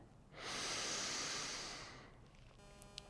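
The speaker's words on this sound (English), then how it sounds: "Inhale deeply to tune in." A single long, deep inhale through the nose during a Kundalini yoga practice, close and breathy with a soft hiss that swells and then fades, heard alone.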